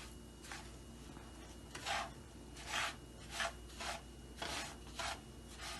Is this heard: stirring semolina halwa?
yes